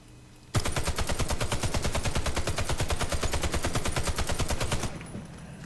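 Long continuous burst of automatic fire from the La ZX84 machine gun in the shooter game Warface, rapid even shots at long range, loud and close, about four seconds before cutting off with a short fading tail.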